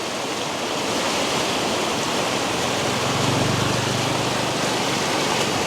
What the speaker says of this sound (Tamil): இது தண்ணி போகிற சவுண்டாக பார்த்தீங்களா